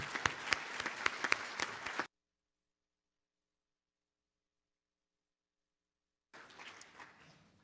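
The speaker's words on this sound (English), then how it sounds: "one more round of applause for our 8th grade strings ensemble" An audience claps for an 8th grade strings ensemble at a school baccalaureate, a dense burst of clapping that cuts off into several seconds of silence before fainter clapping returns near the end.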